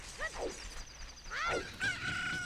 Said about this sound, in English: Oh look, a chicken hatched from the egg.